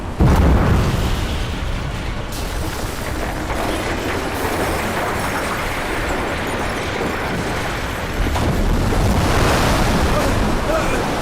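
Tsunami water rushes in a disaster film, a loud, continuous roaring surge of churning water and wind that swells again near the end.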